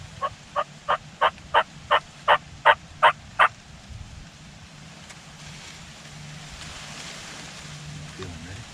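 An Osceola wild turkey gobbles in a rapid run of about nine loud, clear calls, then falls quiet against faint outdoor background hiss.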